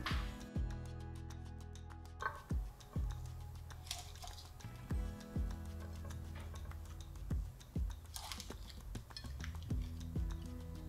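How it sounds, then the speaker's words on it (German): Cheese-ham puff pastry swirls are set down onto a plate, giving a series of soft, evenly spaced taps and light clinks over a quiet, steady background. "Nun werde ich das leckere Gebäck auf einen Teller positionieren."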